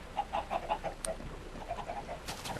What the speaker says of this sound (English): And over here is my chicken pit.